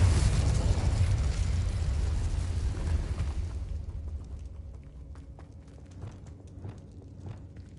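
Confringo spell blast in Hogwarts Legacy: a loud, broad fiery burst that fills the opening seconds, then decays into a quieter rumble dotted with small crackles and footstep-like taps.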